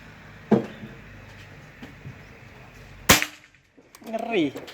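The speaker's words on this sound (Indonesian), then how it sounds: "Tembakan ke 4 ya." A single sharp, snappy shot from a Bocap Pajero Gen 5 PCP air rifle cracks out close by, preceded by a softer click, followed by a brief murmur of a voice.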